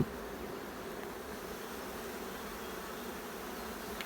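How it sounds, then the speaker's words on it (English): Dense, continuous buzzing of many honeybees inside an open hive up close, a steady droning hum without pauses. "there is a lot of bees in here"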